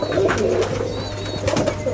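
An Ablak (biscuit-coloured) running pigeon coos close by in soft, repeated low calls that rise and fall in short bursts over faint background noise.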